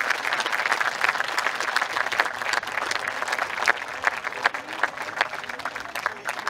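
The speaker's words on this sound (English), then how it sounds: "thank all the mentors and give them a big clap and all the coaches" Steady crowd applause rings out at a Down GAA minor football championship B final, continuous clapping from many hands throughout, with faint voices underneath.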